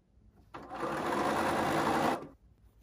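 A sewing machine runs in one steady, continuous burst of close stitching for about a second and a half, joining quilt fabric pieces for a whale quilt block, with no talking.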